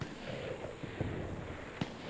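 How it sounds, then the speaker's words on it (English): Distant gunshots echo across a Fallout 4 game wasteland, a couple of faint dull cracks over a constant background rumble. "you can always hear gunshots in the distance."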